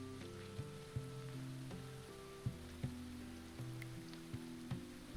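Steady rain patters across a medieval colony in the survival game Going Medieval, a soft continuous wash beneath tonal game music with a few sharper drips and knocks.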